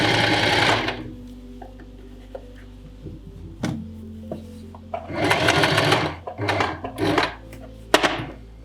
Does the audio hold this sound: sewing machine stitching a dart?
yes